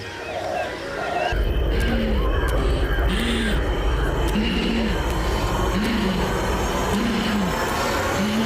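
A crow caws repeatedly at a steady pace, short harsh calls over a constant dense outdoor hum of background noise.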